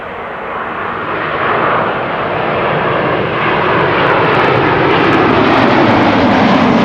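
An Embraer 190 jet airliner at Amsterdam Schiphol Airport, a loud sustained engine roar that builds steadily and stays close and dominant throughout, with no talking.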